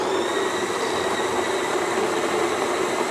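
A small plugged-in electric coffee grinder grinds coffee beans for cold brew, with a steady, loud, high whirring drone and no talking.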